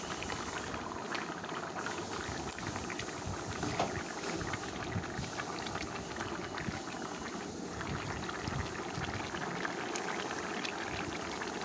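Vegetable curry with fried lentil bori dumplings simmering in a pot, a steady, moderately faint bubbling and popping that continues without pause.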